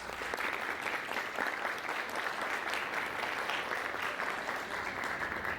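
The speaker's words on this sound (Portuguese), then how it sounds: "Então eu queria uma salva de palmas para o professor Augusto Albuquerque." Audience applauding a speaker, Professor Augusto Albuquerque, at a structural engineering lecture event; steady dense clapping from a crowd fills the room evenly without a break.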